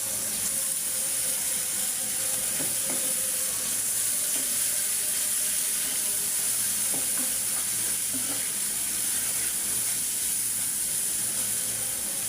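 Ginger garlic paste, onion and green chili fry in a pan, giving a steady, close sizzle with occasional stirring scrapes and no voices throughout.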